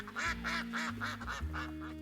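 A duck quacks in a sound effect: about six loud, nasal quacks in an even, steady rhythm, close and alone over a low background hum.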